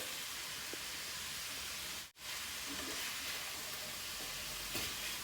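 Red bell peppers and sweet green chili peppers sizzle in a pan with meat for a Turkish meat dish, a steady close hiss with a brief dropout midway and faint stirring clinks.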